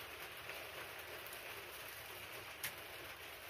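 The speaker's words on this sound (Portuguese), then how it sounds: "Ó a chuva caindo agora." Rain falls steadily at a beach during a fishing outing, a faint, even hiss of drops with one brief louder patter near the end.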